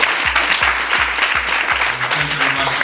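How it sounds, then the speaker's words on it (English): A chapel audience at a college claps steadily in close, dense applause that carries on throughout, with a rhythmic low thumping underneath. "Give yourselves a round of applause."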